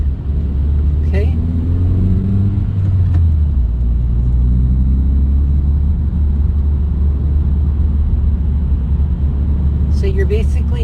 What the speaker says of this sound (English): Gonna clutch in, gonna coast into the spot, give a little bit of gas, clutch up